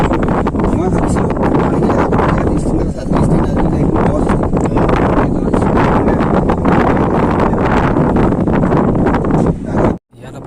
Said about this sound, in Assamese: ইয়াত আপোনালোকে বতাহৰ শব্দই শুনিব নে পানীৰ শব্দই শুনিব